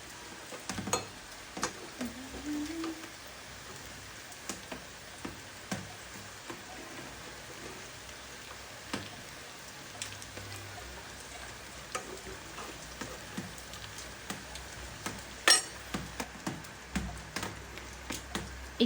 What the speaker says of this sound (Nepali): फेरि नेक्स्ट लटकोलाई फ्राई गर्नलाई